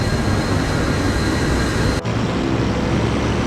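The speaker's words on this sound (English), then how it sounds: "It's detaching aircraft. They look like jets." Loud, steady roar of jet aircraft detaching from a bomber in the video game Secret Weapons Over Normandy, a dense continuous rumble with a brief dropout partway through.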